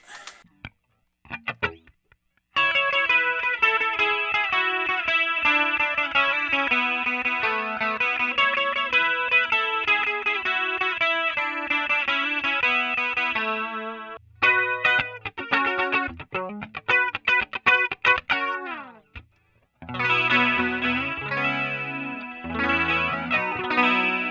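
Electric guitar played through a Roland Jazz Chorus amp with its chorus effect on, shimmering sustained chords ringing steadily, then a brief gap and a run of shorter plucked notes before chords swell again, loud and close.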